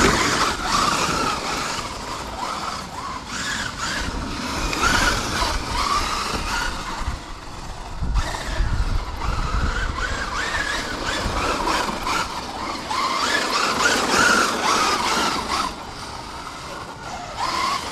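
A car drifts with its engine roaring and its tires squealing and skidding in a continuous loud rush that swells and dips over time, with no one talking.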